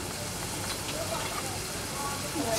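Steady broadband sizzle from ginger-garlic paste sautéing in a hot pan for a Maharashtrian capsicum and gram flour bhaji, a continuous close hiss with faint crackles throughout.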